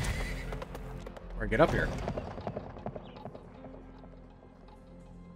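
Horse hooves clop and a horse whinnies loudly in the Western video game Weird West, the neigh rising sharply mid-clip over steady game ambience, while someone talks throughout.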